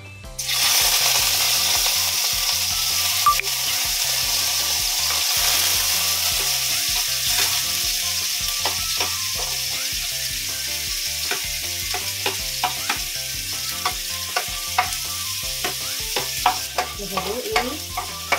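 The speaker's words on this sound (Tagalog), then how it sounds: "After uminit ng mantika, lagyan na natin itong bawang at sibuyas" Garlic and onion sauté in hot cooking oil for a Filipino chicken afritada, with a steady close sizzle running throughout and occasional scraping and clinking of a spoon against the pan.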